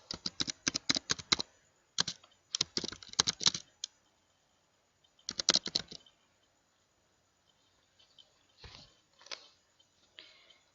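Typing on a computer keyboard: quick bursts of crisp key clicks in clustered runs, separated by pauses, with sparser taps toward the end, close and fairly quiet.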